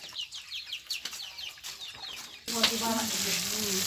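Mala seasoning is stir-fried in a pan. After a stretch of scattered chirpy sounds, a loud, continuous sizzle bursts in halfway through and holds steady to the end.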